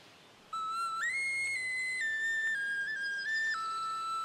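A carved toy clay whistle blown in one long, clear, bright tone that steps up and down in pitch, close and alone.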